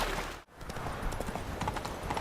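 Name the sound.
horse Roach's hoofbeats in the video game The Witcher 3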